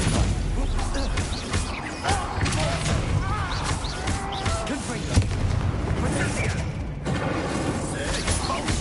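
Fire spells cast in Hogwarts Legacy on PS5 set off repeated explosive booms and thuds. The bursts come dense and loud over a busy game soundtrack, with a voice speaking at times.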